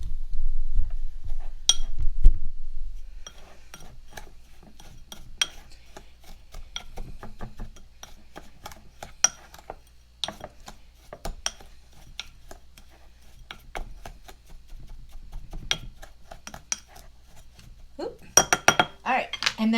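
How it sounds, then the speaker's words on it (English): Spice rub for pork chops mixed in a bowl: a spoon scrapes and clinks against the bowl in rapid, irregular taps, moderately close, with a busier burst of clattering near the end. "I'm going to mix my rub up so everything's nice and incorporated in it."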